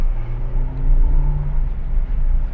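A 2021 Suzuki Ertiga 1.5 GL on a test drive, its engine droning steadily as it accelerates, a moderate in-cabin hum with rising tones and no talking.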